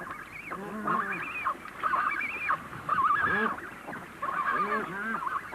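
Blue-eyed shag chicks beg their parents for food with repeated urgent, honking squawks in irregular bursts, close and continuous over a steady background.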